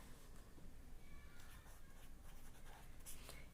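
Chalk or marker strokes on a classroom board during a Class 4 maths lesson, a quiet run of faint scratchy scrapes in short bursts with no talking.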